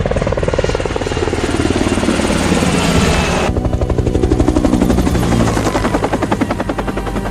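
An extraction helicopter in an action thriller chase scene roars loud and close, its rotor beating in a fast steady chop with engine whine throughout, the tone shifting partway through.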